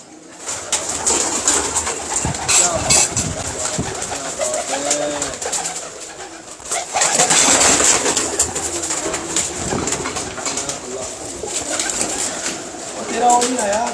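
Teddy pigeons coo repeatedly in a loft, with soft, rolling calls overlapping and close by, under steady background noise while men converse nearby.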